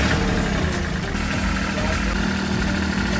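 A Westerbeke marine generator engine on a boat runs at a steady idle, a loud, continuous mechanical drone filling the scene with no clear speech.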